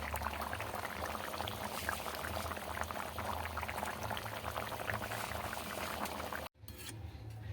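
Pot of curry with potatoes bubbling steadily on a gas stove, a continuous close crackling simmer that cuts off abruptly near the end and then resumes faintly.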